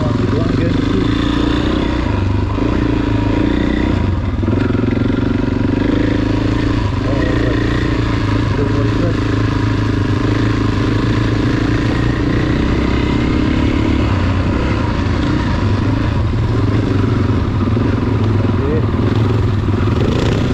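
A KTM 450 EXC motorcycle being ridden gives off a loud, continuous engine drone with shifting revs and clatter, close and steady for the whole stretch, with no pauses.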